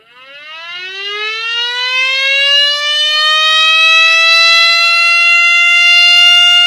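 A small electric mini siren model winding up from a low start into a steady, loud wailing tone that rises in pitch, then holds near its top pitch, with no voices heard.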